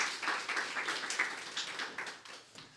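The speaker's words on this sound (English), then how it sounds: "give Janice a round of applause" A small audience claps for Janice as she steps up, a light, uneven patter of hands that starts fairly strong and gradually thins and fades.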